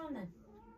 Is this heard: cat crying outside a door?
yes